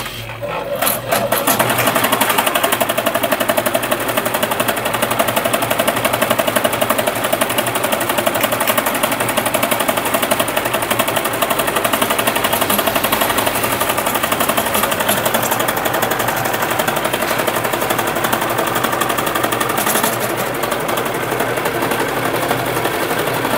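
An embroidery machine stitches with gold-colored thread, running as a continuous loud rapid mechanical chatter and hum throughout, with no speech.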